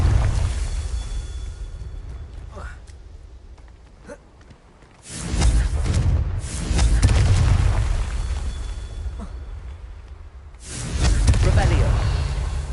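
Confringo spell blasts in Hogwarts Legacy erupt as heavy, booming explosions, two loud bursts with rumbling tails separated by quieter stretches of ambient noise and small pops.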